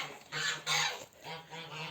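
Several nasal honks from geese, fairly close, in a quick irregular series with a faint steady hum behind them.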